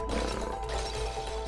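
A lion's roar from the video game It Takes Two, a sustained, loud growling rumble filling the short moment without a break, with no talk over it.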